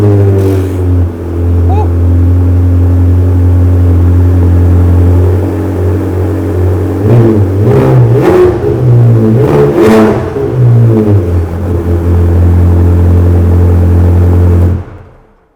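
A Ferrari 360 Modena engine idles with a loud, deep steady drone, then blips up toward 3,000 rpm in a few quick revs before settling back to idle and cutting off.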